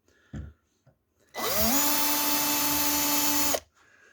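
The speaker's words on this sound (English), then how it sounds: "pre-drill your holes" Power drill pre-drilling screw holes in a kitchen drawer gives one steady whirring burst of about two seconds, close and loud, after a couple of faint knocks.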